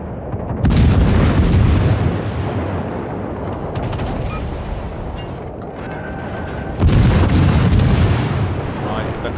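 Heavy naval gunfire and explosions from World of Warships, with a loud booming blast at the start and another near the end over a constant rumbling battle din.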